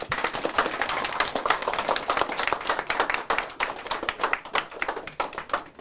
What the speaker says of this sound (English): Yes, you all can clap for your peers.